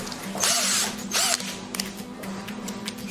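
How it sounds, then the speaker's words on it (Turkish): A power drill bores out the riveted metal parts of a car door check, giving two loud, whining bursts early on followed by quieter grinding and rattling, with no talking. "Matkap yardımıyla açıyoruz."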